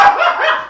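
A dog gives a single loud, close bark that is held briefly before it fades.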